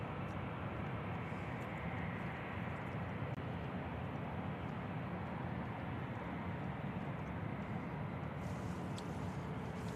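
A Boeing 737 MAX 8 departs Nashville International Airport, its jet engines making a steady, broad roar that holds evenly at a moderate distance without any clear rise or fade.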